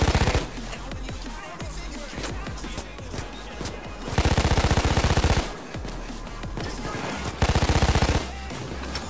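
Gunfire in the heist video game Payday 2 during a big bank vault job, with sustained bursts of automatic weapon fire and scattered single shots, two especially loud rapid-fire volleys standing out over busy game noise.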